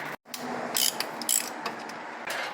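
A ratchet wrench clicks rapidly as it turns a 12mm bolt loose from a shock absorber mount during suspension bush work on a Mitsubishi Triton, Pajero or Hilux, with close, dense bursts of ratcheting and short pauses between.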